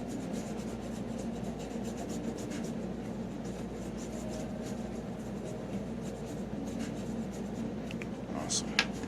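Steady rubbing and scrubbing on the tarnished, corroded contacts of a 1986 Nintendo Kid Icarus cartridge, a continuous close scratchy rasp with speech over it.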